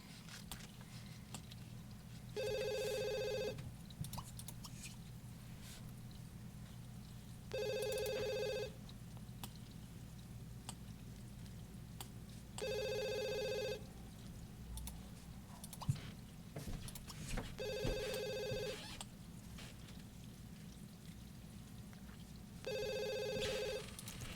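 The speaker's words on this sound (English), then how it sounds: "this phone won't shut up" A telephone rings in The Sims 2 in five repeated bursts about five seconds apart, each a bright trilling ring lasting about a second, over a low steady game background hum.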